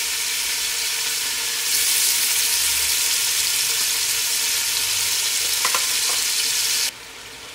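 Turkey neck and vegetables fry in a pot with a loud, steady sizzle, briefly stirred midway, before the hiss suddenly drops to a quieter simmer near the end.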